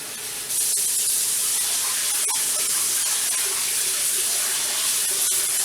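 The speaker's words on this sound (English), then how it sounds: "And I'm going to rinse my broccoli." A kitchen tap runs steadily at full flow while broccoli is rinsed under it, a loud continuous hiss of water with a few faint knocks.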